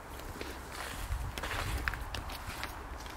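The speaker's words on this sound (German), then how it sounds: "ich gehe über die Brücke und dann fange ich an, Schritte zu zählen" Footsteps walking over a bridge outdoors, a steady series of moderately loud steps with no talking.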